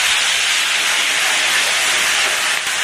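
Vegetables hit a hot pan in an Indonesian home kitchen and sizzle with a loud, steady broadband hiss that continues unbroken throughout.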